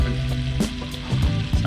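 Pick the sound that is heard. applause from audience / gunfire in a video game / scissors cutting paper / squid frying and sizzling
squid frying and sizzling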